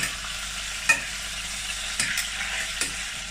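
Food sizzles steadily in a frying pan, with a few sharp clatters as pieces are flipped and turned over, close and moderately loud with no talking.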